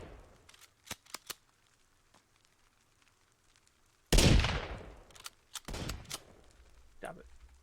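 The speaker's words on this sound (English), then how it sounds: "Who's shooting at me?" Gunfire in a GTA roleplay video game: a few sharp clicks, then a loud burst of shots, a second burst shortly after, and fainter noise trailing off.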